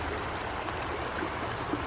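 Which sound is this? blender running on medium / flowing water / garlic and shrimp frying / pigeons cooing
flowing water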